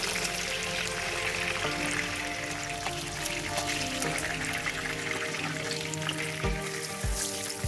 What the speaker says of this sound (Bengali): তেল হালকা গরম হয়ে এলে মাছগুলোকে এক এক করে ভেজে নিব